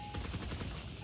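Heavy weapon gunfire in GTA 5 Online, a rapid automatic burst of closely spaced shots, steady and fairly loud, heard alone.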